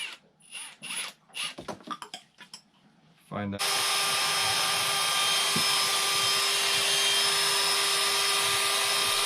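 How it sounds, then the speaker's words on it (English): A power drill starts up on a boat engine after a few brief spoken words and clatter, then runs loud and steady for several seconds with a constant whine. "Let me put a drill on here."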